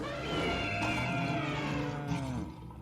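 A lion roar sound effect played back: one sustained, wavering, harmonic cry that bends in pitch and sounds somewhat cat-like, moderately loud and alone.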